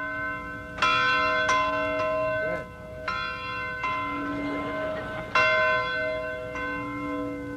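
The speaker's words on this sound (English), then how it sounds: "That bell rings every morning at 4:30" A training camp bell at Muhammad Ali's Fighter's Heaven is struck repeatedly in a loud, steady rhythm. Each bright, ringing clang overlaps the sustained hum of the one before.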